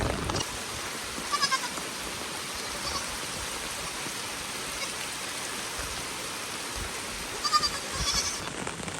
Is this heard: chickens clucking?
no